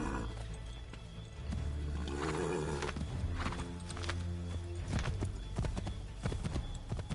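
Horse hooves clip-clop at a gallop in Assassin's Creed 3 Remastered, steady rapid beats over game music and ambient roar, with occasional snorts and whinnies.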